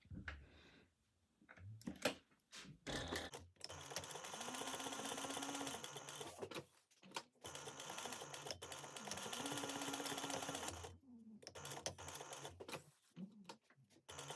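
Sewing machine stitching a second reinforcing seam 1/8 inch around a vinyl bag, a close steady mechanical whir running in long sustained bursts, with brief stops and clicks between runs and no talk.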